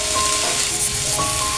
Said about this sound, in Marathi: बघा आता कांदा टाकलाय भाजायला,